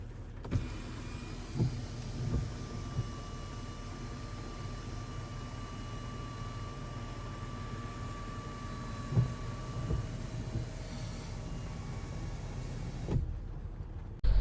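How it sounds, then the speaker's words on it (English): A panoramic sunroof on a 2022 Ram 1500 Limited EcoDiesel slides open with a steady electric motor whir lasting over ten seconds, starting and stopping with soft clunks, heard up close inside the cabin with no talking. "this panoramic sunroof also gives us a wide open feel. All you have to do is push that back and it will expose the sun for us."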